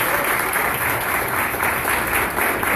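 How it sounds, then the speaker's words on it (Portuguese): A church congregation applauds during a Sunday evening service, steady, even clapping from many hands that fills the space without pause. "Salva de palmas"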